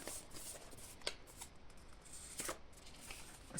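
Cards from a deck rustle and shuffle quietly, with a few soft snapping flicks and slides close by, alone without talk.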